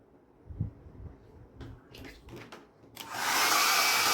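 A hair dryer switches on near the end to dry a watercolor painting of a village scene, a loud steady broadband blowing roar that follows a few quiet handling noises.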